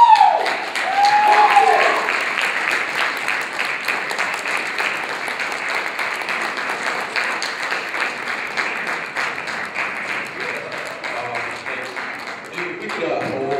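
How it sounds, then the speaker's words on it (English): Steady audience applause after a speech at a student government debate, loud at first and then settling into an even, sustained clapping that lasts throughout, with faint voices underneath near the end. "We could hold the applause to the end of each section."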